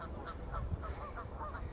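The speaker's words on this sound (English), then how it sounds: "You can hear the geese in the background." Geese honk in a loose, repeated series of short calls, faint and somewhat distant against a low outdoor rumble on a countryside walk.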